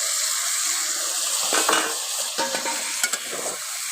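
Fried chicken pieces tossed into cooking masala in a pan, loud continuous sizzling with utensil scrapes and clatters as it is stirred.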